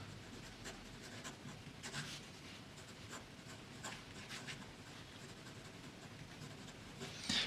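Faint, close scratching of a fountain pen nib gliding across paper in cursive, in soft repeated strokes with short gaps, and a slightly louder scratch at the end.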